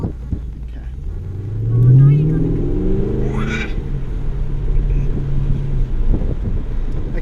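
A 2016 Holden Commodore VFII SS-V accelerates from inside the cabin, its engine note rising in pitch and swelling to a peak before settling into a steady rumble, with wind noise throughout.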